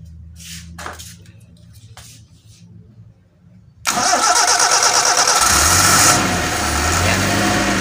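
A Suzuki Espass car engine converted to run on LPG cranks and catches after a quiet stretch with scattered voices, then settles into a loud, steady idle nearby.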